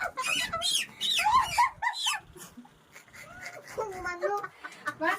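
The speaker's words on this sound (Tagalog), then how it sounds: "Manok, don't come here." Chickens clucking and squawking nearby, mixed with excited human voices and some higher-pitched animal cries.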